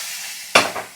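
A single quick scrape of a spoon stirring dal curry in a pan, close and clear over a steady background hiss.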